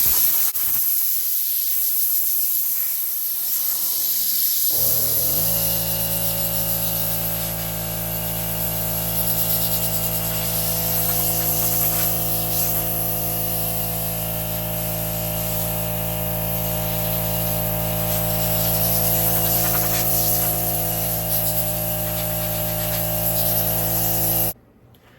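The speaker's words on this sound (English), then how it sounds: "Let's crank the compressor up here, and then we'll start getting this dry." An air compressor runs for a long stretch to blow a headlight dry, giving a loud, steady hiss of air over a constant motor hum until it cuts off abruptly near the end.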